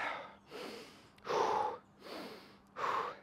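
Heavy, rhythmic breathing during a TRX chest exercise: five close, loud breaths alternating in and out, each about half a second long, with forceful snorting exhales and no talking.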